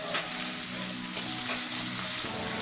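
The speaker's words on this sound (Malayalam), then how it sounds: "കൊച്ചുള്ളി ചേർത്ത് കൊടുക്കാം നല്ലതുപോലെ ഒന്ന് വഴറ്റിയെടുക്കാം" Shallots sauté in a pan for a beans thoran, giving a steady close sizzle with soft stirring scrapes throughout, and no voices.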